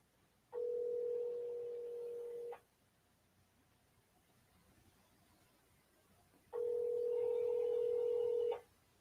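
A telephone line tone sounds while a call is placed for a phone interview: two steady, buzzy tones of about two seconds each, separated by a quiet gap, fairly faint.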